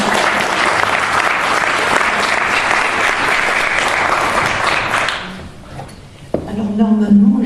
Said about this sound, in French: il faut vraiment l'applaudir pour ce qu'elle fait